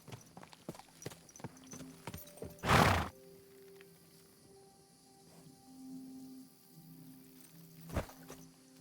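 Horse hooves clip-clop softly in the video game Kingdom Come Deliverance 2, scattered faint hoof taps across a quiet night scene, broken by a louder rushing burst and a later thump.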